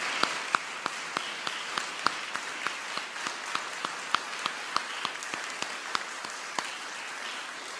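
Church congregation applauding the speakers at a Sabbath service, steady applause from many hands with sharp individual claps popping out at an even pace, fairly close and with no talk over it.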